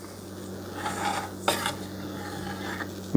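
A spoon scrapes and rasps around a bowl while stirring cornstarch into a smooth mixture, a steady close scraping with a couple of sharper clinks against the bowl, no talking.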